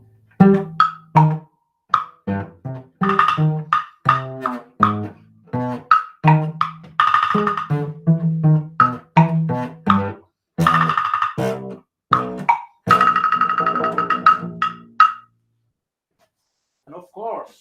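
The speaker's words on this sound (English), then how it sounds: "playing pizzicato with this baroque cello, viola da gamba" Plucked low strings of a baroque viola da gamba in short, bouncy pizzicato notes, mixed with crisp hollow knocks of wood blocks, playing a lively rhythmic passage before stopping.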